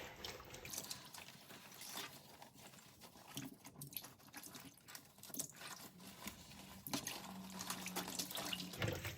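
An equestrian air vest is rinsed by hand in a sink of water, its canister and trigger held clear, giving faint sloshing, splashing and trickling close by with soft irregular swells.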